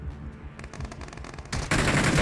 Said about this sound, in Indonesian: Tapi tembakan yang agak baik sebentar